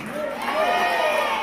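Church congregation claps and shouts together in a short, loud burst of cheering and voices, with a sermon leader's call behind it.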